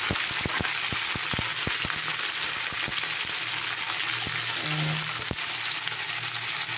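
Onion frying in hot oil gives a constant close sizzle throughout, punctuated by a quick run of soft taps and knocks from a utensil in the first few seconds and a single louder clank near the end; no one speaks.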